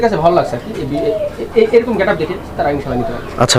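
Pigeons cooing at a pigeon market, soft repeated throaty coos close by, heard under and between people talking.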